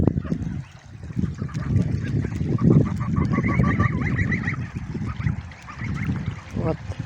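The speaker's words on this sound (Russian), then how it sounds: "Вон там гуси." Geese honking near water where they bathe and preen, bursts of nasal calls mixed with splashing and background murmur, fairly close.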